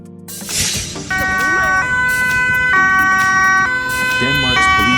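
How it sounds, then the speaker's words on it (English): A Danish police car siren wails nearby in a loud two-tone pattern, switching pitch every second or so, with some traffic noise underneath. "Denmark Police Car."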